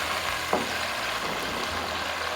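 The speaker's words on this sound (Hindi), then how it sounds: "मैं इसमें डाल दूँगी ये चिकन। इसको थोड़ा सा फ्राई करूँगी ताकि इसका कलर चेंज हो जाए।" Chicken fries in a pan, giving a continuous broadband sizzle with a single brief clink near the start, heard without talk.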